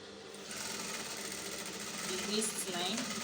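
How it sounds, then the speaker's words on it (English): A sewing machine stitches the side pocket of a pair of trousers with a continuous, even mechanical whir. It runs close and steady for the whole stretch, with faint rattles and no talk. "Then I'm going to sew this side as well."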